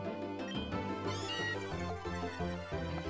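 Meowth's cry from the video game PokeRogue: a short, bright, meow-like call with a rising and falling pitch, heard once over the game's steady musical backing.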